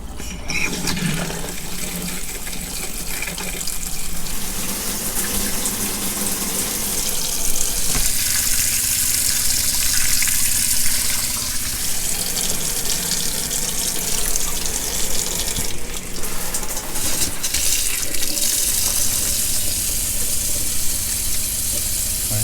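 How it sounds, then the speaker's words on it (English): Fresh water runs steadily from a tap while a fresh water system is flushed, a continuous rushing hiss that swells and dips slightly, close by, with no voices. "I'll get some of that fresher water going through."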